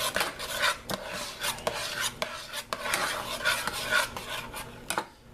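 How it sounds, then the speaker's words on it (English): A spoon stirs pectin into cooking blueberry jam, producing a steady run of close scraping and rasping strokes against the pot with occasional sharp clinks, loud and continuous with no speech. "we're going to take the pectin and we're going to put it in a little at a time and stir it around"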